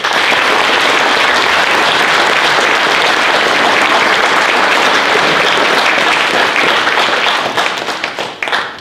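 An audience at a town cultural event in Pécsvárad gives sustained applause, loud dense clapping from a crowd that holds steady for several seconds before thinning into scattered claps at the end.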